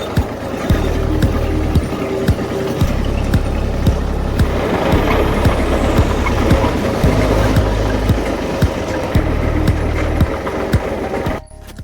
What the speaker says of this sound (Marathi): चला आता निघालो आता आपण ट्रॅक्टर घेऊन.